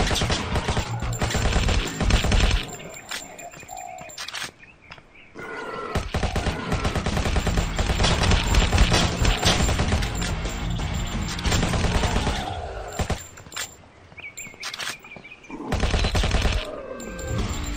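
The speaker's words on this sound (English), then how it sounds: "Tommy gun bullets." Rapid bursts of Tommy gun fire in the zombie shooter game Zombies In City, loud chattering volleys broken by short pauses, with crashes and impacts mixed in.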